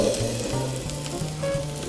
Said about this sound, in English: Listen to that sizzle. That's what we want to hear.